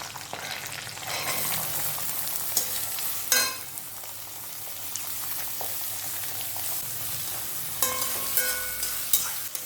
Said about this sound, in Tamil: இந்த வெங்காயத்தை நல்லா கோல்டன் ப்ரௌன் கலர் வர அளவுக்கு வதக்கி எடுக்கணும்.